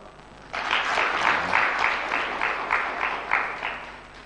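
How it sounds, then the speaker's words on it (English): An audience bursts into applause at a youth business and entrepreneurship launch event, starting suddenly and holding as a steady, fairly loud wash of claps with rhythmic swells for about four seconds. "these people should give you a clap"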